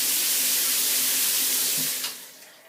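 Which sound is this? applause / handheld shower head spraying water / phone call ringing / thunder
handheld shower head spraying water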